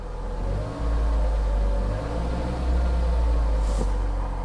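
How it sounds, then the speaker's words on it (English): A car engine idles steadily with a low rumble, and a brief clunk partway through as the transmission engages when shifted into sixth. "the transmission is engaging"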